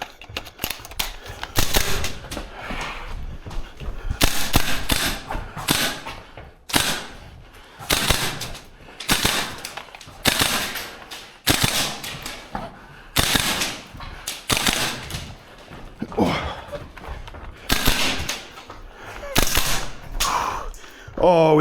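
VFC URGI V3 airsoft gas blowback rifle firing in a tight indoor course, sharp snappy shots in rapid bursts and strings with brief pauses for a magazine change, loud and close throughout.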